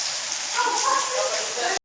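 Steady rain falling outdoors, a dense, even hiss that stays loud and constant throughout before cutting off abruptly.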